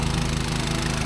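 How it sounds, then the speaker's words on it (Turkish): A standard water pump motor runs steadily in a cotton field, a loud continuous engine drone with a regular low-pitched pulsing and no pauses throughout. "Evet, bu gördüğünüz standart bildiğiniz su motoru. Şu an ses var çok fazla."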